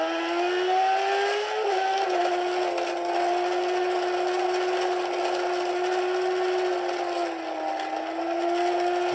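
A Kawasaki racing motorcycle at Donington circuit screams along the start-finish straight, a loud sustained engine note that shifts pitch as it passes, with no talk over it.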